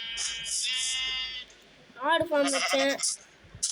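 Goats on a Minecraft farm bleat several times in quick succession, close and clear, with wavering, nasal calls that overlap with a person talking.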